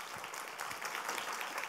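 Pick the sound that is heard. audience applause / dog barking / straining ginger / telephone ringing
audience applause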